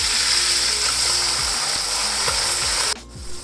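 Mutton being fried with yogurt in a pot, a loud steady sizzle with repeated ratchety scraping clicks from stirring, ending abruptly.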